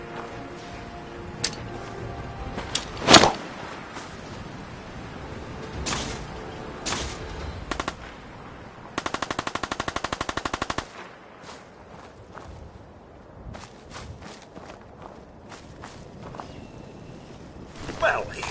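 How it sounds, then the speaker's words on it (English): Gunfire in the video game Fallout 4: scattered shots and a loud crack early on, a rapid burst of automatic fire midway, with low game ambience and occasional footsteps between them. "appears someone is shooting at us"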